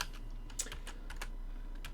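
Code gets typed on a computer keyboard in a quick, even run of light key clicks, faint and close, with no one talking.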